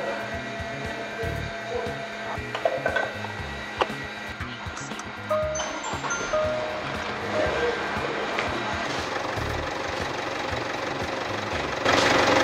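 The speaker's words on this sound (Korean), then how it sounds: "10분 공회전하고 10분 후에 오일을 뺄 거예요" A Jaguar XF 20D diesel engine idles during an oil flush, a steady, close hum with light knocking and occasional clanks, rising slightly louder at the very end.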